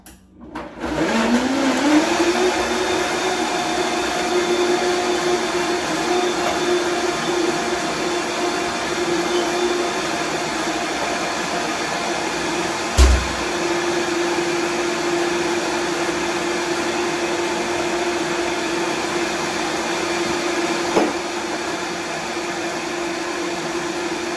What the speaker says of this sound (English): put this on until it's all whirred up together